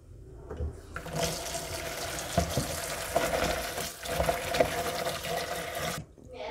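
Water splashes steadily from a tap as vegetables are rinsed, a continuous close rush with small clatters, stopping abruptly near the end.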